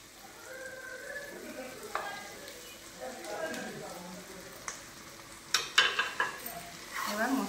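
Capsicum, cashews, raisins, paneer and mixed vegetables sautéed in spiced oil, with a steady close sizzle and sharp clatters of stirring against the pan building toward the end.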